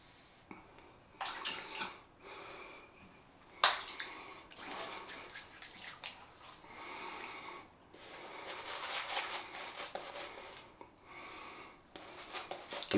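A shaving brush whips Ariana & Evans Asian Plum soap into lather in irregular wet, squelching swirls and brisk bursts, near and fairly quiet, with short pauses between strokes and no talk.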